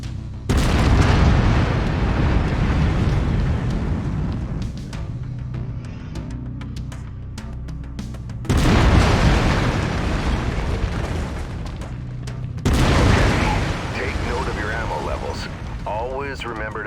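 Heavy autocannon fire from a mech in MechWarrior 5, long booming barrages with brief lulls between bursts, loud and close, with game music and effects running underneath.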